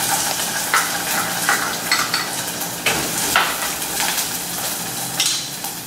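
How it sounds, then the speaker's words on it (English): Onion, garlic and chipotle frying in hot olive oil for a chicken tortilla soup, a steady close sizzle with occasional stirring scrapes and bursts of crackle throughout. "once the oil is hot, I'm gonna add my onion, my garlic, and my chipotle"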